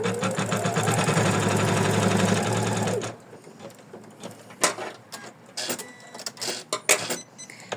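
A sewing machine stitching lace onto a ruffle in an embroidery hoop runs in a loud, fast, steady whir for about three seconds, then stops, leaving scattered clicks and handling taps.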